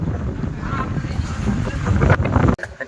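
Strong wind on Girnar mountain buffets the microphone with a dense, roaring rush under cloudy skies. It gusts louder near the end, then cuts off abruptly.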